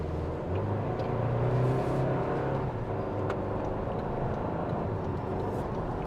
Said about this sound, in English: Taking a step out here, partial throttle.